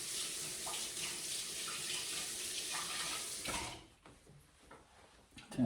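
Water runs from a kitchen tap while scones are being made, a steady splashing hiss that stops abruptly partway through, followed by quiet handling noises.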